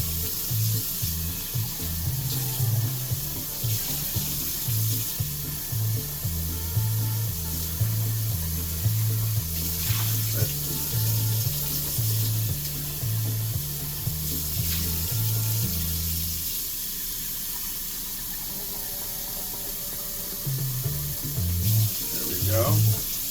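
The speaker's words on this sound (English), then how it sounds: "Rinse this thing out before it congeals." Tap water runs continuously into a pot to rinse out instant noodle residue, making a steady splashing rush for over twenty seconds over a repeating low hum, with slight changes as the pot shifts.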